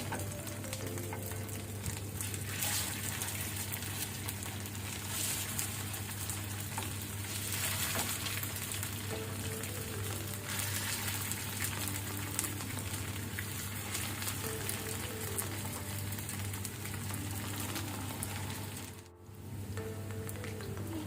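Taro root (arbi) fries in hot oil seasoned with ajwain and turmeric on medium flame, giving a steady, even sizzle that carries on alone and close without any talk.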